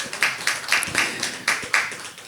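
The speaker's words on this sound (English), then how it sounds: "Please clap, Farai." A small audience at a talk claps in a sparse, regular rhythm, a handful of crisp, close hand claps spaced evenly over a couple of seconds.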